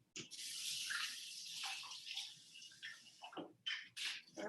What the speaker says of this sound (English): I get to like rinse all the glassware and everything